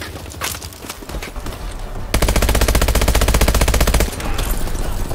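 Sustained rapid automatic weapon fire in Call of Duty: Advanced Warfare, a loud dense burst lasting about two seconds amid ongoing game sounds and scattered shots before and after.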